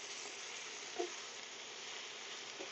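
Apples frying in a pan of bacon grease give off a steady, even sizzle with no break, close and continuous, with one faint clink partway through.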